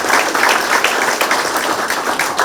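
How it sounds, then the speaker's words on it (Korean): Audience applause welcoming a mayoral candidate at a campaign office opening, loud, dense clapping from a nearby crowd that holds steady throughout. "응원의 힘찬 박수로 맞이해주세요"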